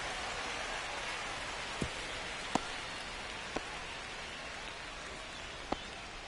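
Steady rain hiss fills a baseball video game during a rain delay, broad and even throughout with a few faint sharp ticks scattered over it.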